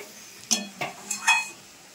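Carrot halwa is stirred in a pan, four quick scraping strokes of a spoon against metal with light clinks, close and distinct over a faint background.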